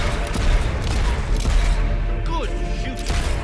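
Gunfire and explosions rattle through a Fable III battle, with a dense wash of shots, booms and mechanical clatter continuing throughout and voices talking over the din.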